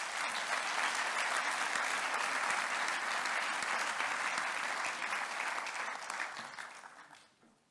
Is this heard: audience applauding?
yes